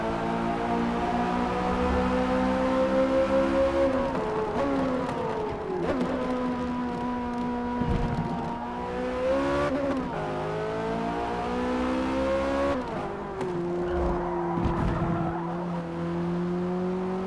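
Corvette Z06 race car in Forza, its engine note droning steadily with harmonics rising and falling through gear changes, punctuated by brief tire squeals and skids, continuous and fairly loud with no talking.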